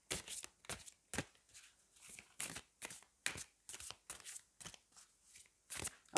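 Oracle cards being shuffled close up, a quick series of crisp riffling bursts and soft slaps repeated in an irregular rhythm, quiet with no talking.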